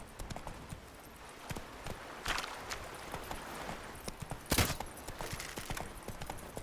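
Hooves clip-clop in a quick, uneven gallop as a horse runs in the video game The Witcher 3. A few louder thuds stand out over a steady background wash.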